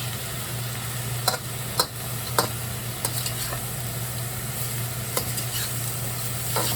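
Shrimp and riced cauliflower stir-fried in a wok give a steady close sizzle, broken by a handful of sharp scraping clicks from the spatula against the pan and a constant low hum beneath.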